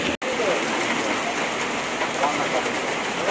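Steady rain pours down in Chuadanga, a dense, even hiss of drops on surfaces close by with no break except a tiny dropout at the start.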